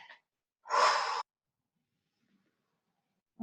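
A deep breath is drawn in during a sophrology relaxation exercise. It comes as a single loud, airy inhale of about half a second, framed by quiet, with faint breathing noises at the edges.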